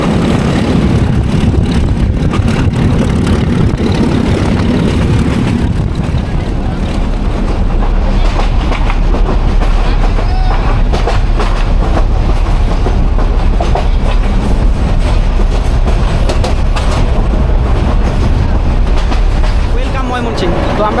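Passenger train running toward Mymensingh railway station from Dhaka, a loud, continuous rumble with clattering wheels and rattling carriages throughout, rising and shifting as it rolls on.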